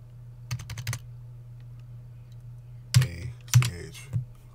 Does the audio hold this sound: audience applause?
no